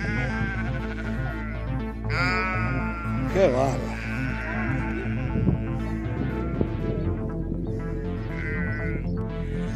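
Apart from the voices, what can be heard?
sheep bleating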